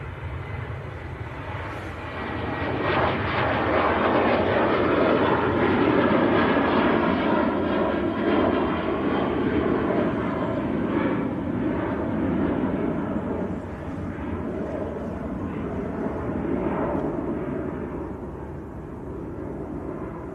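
A Ryanair jet roars at Manchester Airport, a loud, broad rumble that swells and holds for most of the stretch, then eases slightly while staying continuous throughout.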